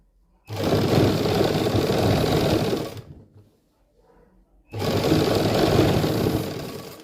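An electric sewing machine stitching a suit for a fitted kameez runs in two long loud continuous bursts with a brief quiet pause between, a dense steady whirring drone up close.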